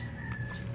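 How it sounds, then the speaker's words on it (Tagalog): A Filipino gamefowl chicken, Peruvian roundhead, clucks in short, low bursts against a steady background hum, with no other sounds standing out. "Ayan ang manok ni Kevin, ayan o"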